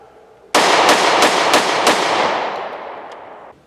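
Five quick .45 ACP shots from a Glock Model 30S pistol fired in fast succession, each a sharp loud crack, followed by a long fading echo across an outdoor range.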